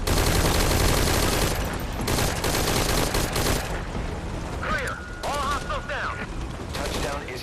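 Bursts of gunfire and explosions from the video game Metal Gear Solid V: Ground Zeroes, loud and dense at first, then thinning into scattered shots with a brief tonal electronic warble near the end.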